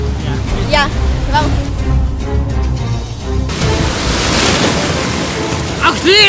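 Surf rolling onto a beach, with broad wind-blown noise and crashing waves throughout, while a young voice speaks and exclaims over it near the start and end.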